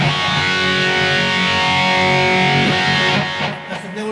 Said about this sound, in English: I'll give you an open G.